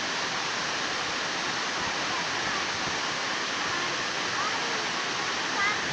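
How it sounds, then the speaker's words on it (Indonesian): A waterfall roars as a dense, steady broadband rush of falling water, loud and unbroken throughout without any clear voices on top. "Air terjun nih."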